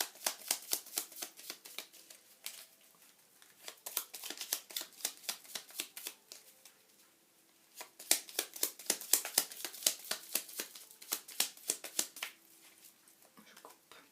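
Oracle cards shuffled by hand before one is drawn, a rapid series of crisp riffling flicks in bursts with short pauses, close and fairly quiet, with a voice talking softly at times.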